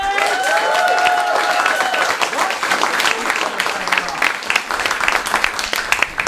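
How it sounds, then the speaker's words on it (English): Dense applause from a crowd, steady and loud, with some cheering and voices mixed in throughout. "Let's hear wild applause."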